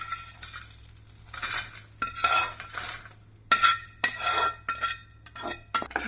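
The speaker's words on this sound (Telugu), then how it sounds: "ఇదిగో ఇలా వేగాలి పచ్చిమిర్చి కూడా, నువ్వుపప్పు, ఇదిగో ఎర్రగా నువ్వుపప్పు" Sesame seeds and green chillies roasting in a pan for keera dosakaya pachadi, heard as repeated scraping stirs and light clinks of a spatula on metal in uneven bursts, close and moderately loud with no talking.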